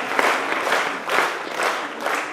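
A crowd gives loud, close applause, with many hands clapping in rolling waves that swell and ease several times.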